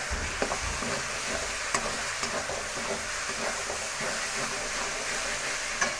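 A spiced curry base with a little chilli, coriander powder, turmeric and salt is stirred and sautéed in a pan, giving a steady close sizzle with scraping stir clicks and no talk.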